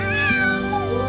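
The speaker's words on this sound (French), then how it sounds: "Sans insister, le chat s'enfuit." A cat lets out a single drawn, wavering meow, close and clear, with no talking over it.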